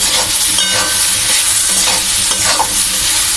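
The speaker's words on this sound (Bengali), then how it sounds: "লঙ্কা গুঁড়ো দিয়ে দিলাম, নেড়ে নিচ্ছি।" Frying food is stirred with chili powder added, and a loud, busy sizzle mixes with repeated scraping strokes of the spoon against the pan.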